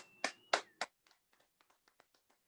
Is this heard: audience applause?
yes